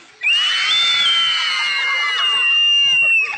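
A group of children screams loudly together in a sustained, high-pitched shout lasting about three seconds, close and dense, during a child safety awareness session.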